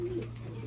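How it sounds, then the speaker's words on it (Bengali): A Bombay pigeon gives one brief, soft coo at the start, faint and somewhat distant over a steady low background hum. "ওই যে কি সুন্দর করে ডাকতেছে কবুতর"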